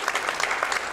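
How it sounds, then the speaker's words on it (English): Audience applause fills a hospital launch event for a women's and children's health and wellness center, a steady dense patter of many hands clapping at moderate loudness throughout. "Let's have a round of applause for the Momstory."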